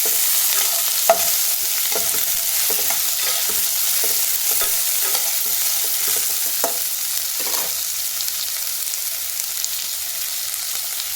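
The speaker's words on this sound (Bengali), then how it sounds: "সর্ষেটা গরম হয়ে গেছে, এবার চাল কুমড়োটা দিয়ে দিলাম।" Pieces of ash gourd fry loudly in hot oil with mustard seeds, a dense continuous sizzle broken by repeated scraping knocks of a spatula stirring the pan.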